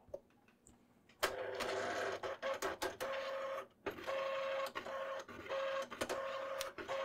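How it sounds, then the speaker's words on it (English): An HP ThinkJet 2225A inkjet printer powers up after a repair. A quiet moment gives way to busy mechanical whirring and clicking as the print head and feed run in short, repeated bursts, close and clear. "hold the line feed down and we'll turn the printer on"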